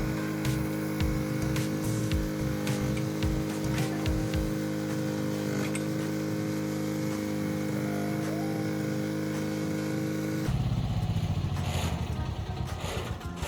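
A mini excavator fitted with an MMS 200mm hydraulic auger attachment lifts the auger into working position. Its diesel engine chugs steadily and loudly at close range, then surges into a rougher, louder roar near the end.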